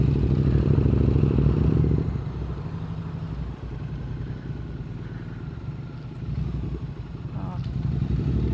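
A Triumph Street Twin motorcycle on a Sunday ride, its engine rumbling loud and close throughout, easing off briefly midway with clattering road noise and wind, and voices may be present.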